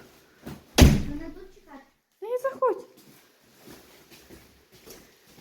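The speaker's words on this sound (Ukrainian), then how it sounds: "Закривай двері." A house door swings shut in a newly furnished home with one loud close, heavy thud near the start, followed by quieter rattles and household movement; people speak briefly around it and a dog whimpers.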